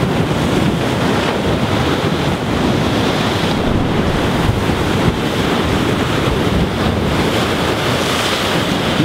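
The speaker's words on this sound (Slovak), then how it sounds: "Neviem, či ma práve je počuť kvôli tým vlnám" Storm-churned ocean surf crashes and hisses without pause, loud and close, with heavy wind buffeting the microphone throughout; no one speaks.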